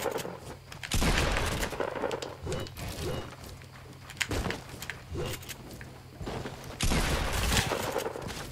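Gunfire in Fortnite, a few loud, sharp bursts at about one, five and seven seconds, standing out over a steady game background with no talking.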